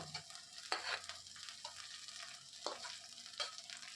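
Ginger paste and chopped green chili sizzle with fried onion in a pan, a steady close frying hiss broken by a few louder stirring scrapes and bursts.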